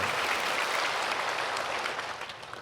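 Congregation at a Sunday church worship service applauding the choir, steady dense clapping filling the room throughout, close and sustained, easing slightly toward the end.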